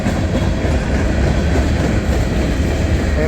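CSX freight train with old Maryland Midland hopper cars rolling past in Patapsco Valley, a loud close continuous rumble with rhythmic wheel clatter.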